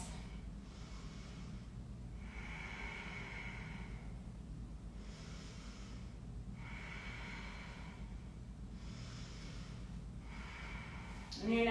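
During a yoga session, slow, deep breaths come close to the microphone in a steady rhythm of about four long, soft inhales and exhales, very quiet and otherwise alone.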